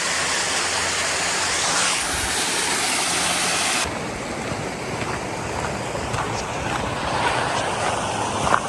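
A waterfall on a Colorado hiking trail, heard from the top of the falls, gives a loud, continuous rushing roar that stays steady throughout, with a slight shift in tone partway through.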